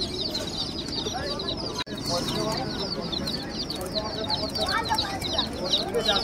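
Pigeons coo and flutter amid a busy bird and pet market in Shrirampur, Krishnagar, with layered chirps and clucks of other birds and a seller's voice talking over the constant chatter.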